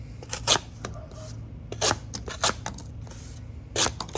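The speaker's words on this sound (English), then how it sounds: "I was just amazed at how easily this thing cut cardboard, man." An SPK Lamia knife slices through cardboard in a few separate bursts, each a short, crisp, close-up rasping cut set apart by quiet pauses.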